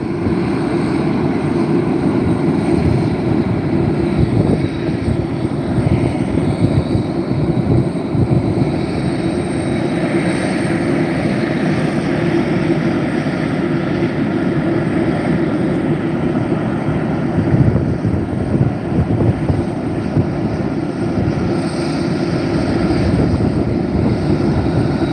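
A McDonnell Douglas MD-11 jet departing Reno airport produces a steady, loud, broadband engine roar that fills the whole stretch without letting up.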